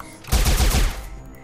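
Gunshot sound effect played as a player fires at an enemy during a tabletop game's combat, a dense crackling burst of rapid shots lasting about half a second, loud and alone with no voice over it.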